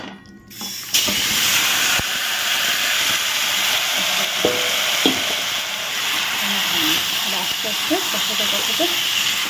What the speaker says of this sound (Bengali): একবারে কড়াইতে দিয়ে দিই দেখো তেল দিইনি কিন্তু